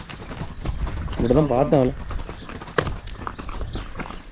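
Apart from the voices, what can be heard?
horse hooves clip-clopping during a horse trip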